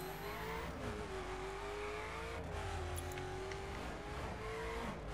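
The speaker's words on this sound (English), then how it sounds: "I'll let you listen to the gear changes here for a while" A Koenigsegg Agera R engine in the video game The Crew revs hard and steadily, with the pitch dipping and climbing as gears shift, tires squealing now and then.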